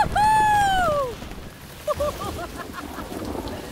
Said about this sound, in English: And the stormy wind blew.